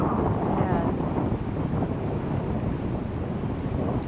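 Strong wind buffets the microphone aboard a yacht waiting outside a river lock on the Erie Canal near Canajoharie, New York, a loud, steady roar with continuous rushing and no clear pauses.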